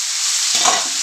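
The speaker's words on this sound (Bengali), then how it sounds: "এবার একটু নাড়াচাড়া করে" Pumpkin and a hilsa fish head with green chillies being stirred and fried in a pan: a brief, steady hiss of frying with a soft scrape of stirring partway through, heard up close.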